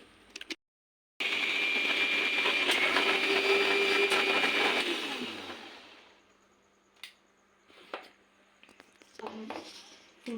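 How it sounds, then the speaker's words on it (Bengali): A kitchen blender whirs steadily for about five seconds as it purées a date-palm jaggery mixture, then winds down and stops, leaving small clicks and handling noises. "তো এখন ব্যালেন্ড করে নেব।"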